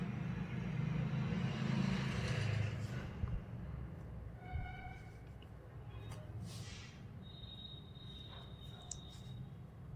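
An auto-rickshaw engine idles nearby with a low, steady rumble while a new sewing machine is loaded aboard, then quiets after a few seconds, leaving faint scattered clicks and background noise.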